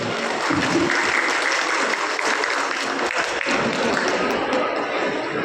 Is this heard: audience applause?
yes